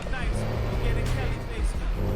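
A MAN TGS 6x6 truck rumbles through an off-road lap in a video game, its steady low engine drone running continuously beneath a voice talking over it.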